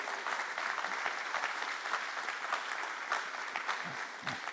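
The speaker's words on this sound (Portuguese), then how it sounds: "Aplauda ao Senhor." A church congregation claps steadily in a sustained round of applause during a worship service, dense and even throughout, with no voices standing out.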